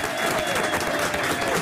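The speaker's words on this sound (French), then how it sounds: "Applaudissements pour la succulente Babette de Rosière" Brief burst of studio audience applause for chef Babette de Rozières on a French talk show, dense and steady clapping from start to finish.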